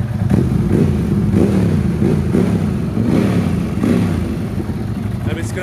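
Ducati superbike engine running just after a bump start, with a loud, steady, rough throbbing idle that swells briefly in a few places and stays up close.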